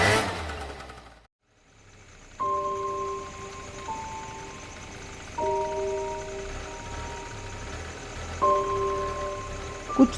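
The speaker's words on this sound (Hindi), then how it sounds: "तो कालू थोड़ी अपनी गाड़ी की स्पीड बढ़ा लेता है।" A car engine in an animated horror story idles, then revs up in several separate bursts. Each rising whine is moderately loud, and a short silent gap comes before the first surge.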